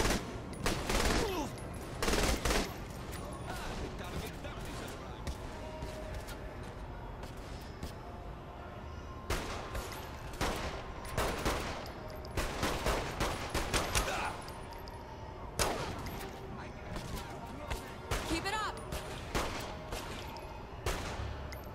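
Gunfire in the open-world crime game Saints Row: The Third: loud bursts of automatic fire and rapid volleys repeating at intervals over a constant background din.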